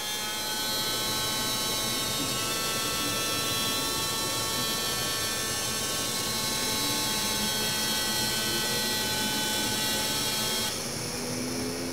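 A cap testing machine applies 30 inch-pounds of torque to a child-resistant cap, giving off a continuous, loud mechanical whir and buzz with steady tones. The sound holds evenly throughout and shifts slightly near the end.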